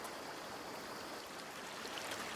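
A river flows steadily in the video game A Plague Tale: Innocence, a faint, even rush of running water with no voices over it.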